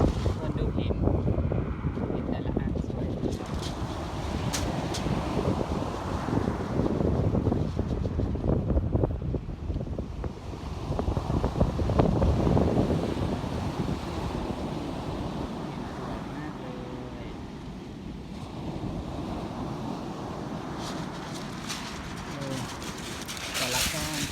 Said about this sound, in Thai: วันนี้ทะเลลมแรง ไม่ค่อยสวยเหมือนเมื่อวานนะจ๊ะ